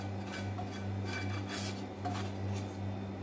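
Chicken spooned onto a plate at home, steady scraping and clinking of utensils against the dish, close and continuous, with a low hum underneath and no talk.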